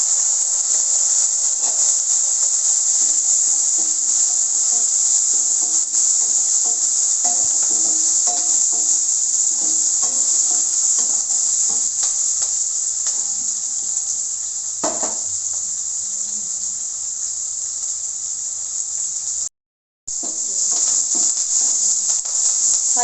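Shallots, crushed garlic, fennel seeds and curry leaves sautéing in hot oil for a mackerel fish curry, a steady bright sizzle with occasional stirring scrapes, loud and continuous, briefly cutting out near the end.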